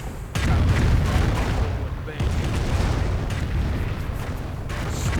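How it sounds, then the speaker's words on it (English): Calliope rocket artillery barrage in a World War II strategy video game, a loud continuous rumble of blasts that lasts the whole stretch after a quiet start, with a second surge about midway. "And another Calliope barrage."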